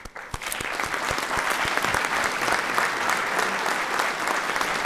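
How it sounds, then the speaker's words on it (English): Audience applause for first responders at a city council meeting in Roswell, New Mexico: steady, dense clapping from a room full of people, loud and sustained throughout, with a few sharper individual claps near the start. "All right, a word of applause for our first responders."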